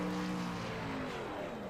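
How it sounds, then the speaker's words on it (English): An iRacing race car doing burnouts on the Michigan track, heard as a steady, droning engine roar that holds loud throughout a short stretch, with no voices. "even doing his burnouts"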